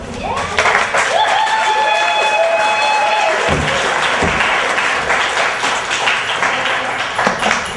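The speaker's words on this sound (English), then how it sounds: "I can't hear from all the clapping" A crowd at a poetry reading applauds loudly and continuously, with a few cheers and whoops rising over the sustained clapping.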